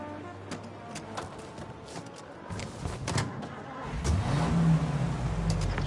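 A car driving in the Mafia video game, its engine idling quietly at first, then revving up and accelerating, with a few clicks and knocks along the way.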